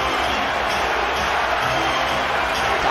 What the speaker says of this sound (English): Crowd rising to its feet.